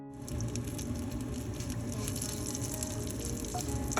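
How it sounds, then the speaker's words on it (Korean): Anchovies sizzle and crackle in cooking oil over high heat while being stir-fried, a steady close frying hiss with dense popping throughout and no talking. "식용유를 넣어서 멸치를 살짝 볶아준 다음"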